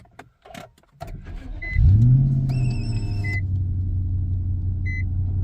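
An Infiniti M45 with its VK45DE V8 cranks briefly, catches with a loud rising rev, then settles into a steady, smooth idle rumble that continues alone, with a few faint electronic chimes over it.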